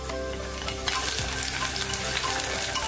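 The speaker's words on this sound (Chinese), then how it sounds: "再用葱白、蒜片、干辣椒炒香" Scallion whites, garlic slices and dried chilies stir-fry in hot oil in a clay pot for a tofu casserole, a steady close sizzle with a brighter burst of crackle partway through and scraping from stirring.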